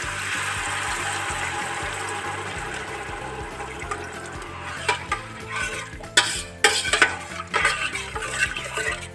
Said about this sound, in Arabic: اجيب ميه مغليه وانزل عليه بالميه